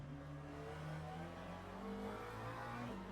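A car drifting on the track at Paul Ricard circuit gives off a faint, steady engine drone with revving tones that shift in pitch, heard from a distance without talk.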